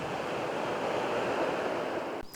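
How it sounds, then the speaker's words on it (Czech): Sea waves wash onto a beach in Albania in a steady, soft surf hiss, with some wind noise and no voices. "Vlny, moře, jeho šum, příliv, odliv."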